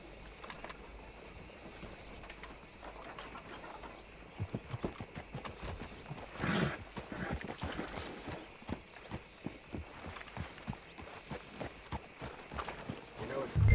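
Horses' hooves clip-clopping in Red Dead Redemption 2, several mounts walking together on a trail with irregular overlapping hoof beats that grow louder midway, with some talk mixed in.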